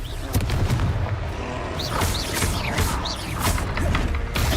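Confringo explosion spell cast in the Hogwarts Legacy video game, a run of booming, crashing blasts and magical whooshes repeating over several seconds.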